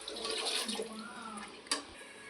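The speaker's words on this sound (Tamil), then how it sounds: "இப்போ நம்ம தண்ணி ஊற்றிக்கணும்." Water pours into a cooking pot in a home kitchen, a quiet, brief splashing trickle with a small clink near the end.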